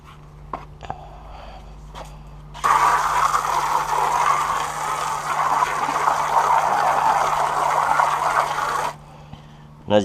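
A hose sprays water onto a rubber WeatherTech DigitalFit FloorLiner, a steady broadband rush that starts abruptly, runs for about six seconds close and loud, then cuts off, with faint handling noises before and after.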